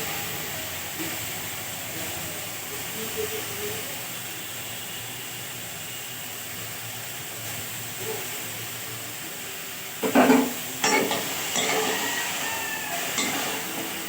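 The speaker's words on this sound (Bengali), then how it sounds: "এই ফুলকপি গাজর আর আলু দিয়ে ভাজছি।" Cauliflower, carrot and potato fry in a pan with green chilli, giving a soft, steady sizzling hiss at low level, broken near the end by a few brief clattering knocks.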